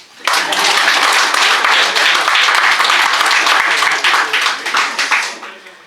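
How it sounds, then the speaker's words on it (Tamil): Audience applause for the speaker at a Tamil book launch ceremony: dense, loud clapping from a crowd that starts abruptly, holds steady for several seconds and then thins out toward the end. "இப்போ நீங்கள் கைத்தட்டினது ஆக்சுவலி எனக்கு இல்லை"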